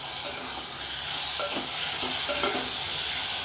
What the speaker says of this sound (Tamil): சரிங்கண்ணா, வெங்காயம் இன்னும் கொஞ்சம் வதங்கணும்.